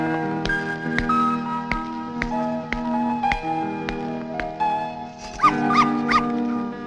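A dog barks in a series of sharp, separate yaps spaced about a second apart, close by, over a steady tonal musical background.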